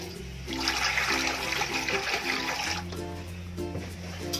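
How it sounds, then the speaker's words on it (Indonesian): Water pours and trickles into a Sunlight dish soap and salt mixture being stretched into a larger batch. A steady splashing flow runs for a few seconds, with faint tonal background music underneath. "Bila airnya dirasa kurang, kita tambahkan lagi airnya."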